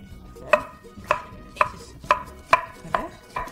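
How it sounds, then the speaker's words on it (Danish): A knife cuts through food on a board in six sharp, evenly spaced chops about half a second apart, each a crisp close thud and click with quiet between strokes and no voices. "når jeg skærer brødet, gør jeg det faktisk på en måde, hvor jeg holder kniven i en vinkel og skærer det i skrå skiver"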